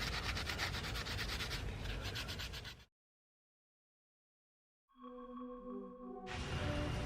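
A harsh abrasive pad scrubs aluminum engine parts during engine bay refinishing: loud, steady rubbing strokes that stop for a silent gap, then a brief tonal hum before the scrubbing resumes close up.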